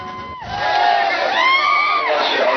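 Party workers at a Satara election victory celebration shout and cheer together in a loud crowd, rising whoops and sustained yells from many voices close by.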